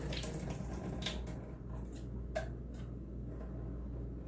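Water pours and splashes steadily as mushrooms are drained at a kitchen sink for chili, a continuous close rushing with a few clinks and knocks over it.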